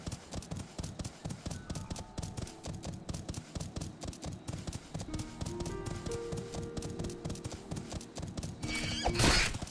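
A horse mount in Final Fantasy XIV trots with rapid, even clip-clop hoofbeats over a soft tonal backdrop, ending in a loud whinnying neigh near the close.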